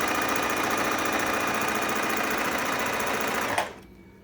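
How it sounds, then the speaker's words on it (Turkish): A Bernette b05 sewing machine runs steadily and loudly stitching a thick, dense satin stitch, a fast even mechanical whir that stops abruptly near the end. "Makine kalın bir dikiş geçiyor"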